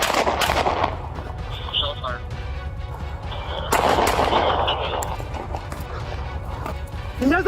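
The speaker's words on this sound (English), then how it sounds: "Shots fired, Rector and Jones-Maltzberger, code 3, open" Gunshots crack out during a police chase, several sharp bangs in the opening seconds followed by more after a pause, over steady engine and road rumble.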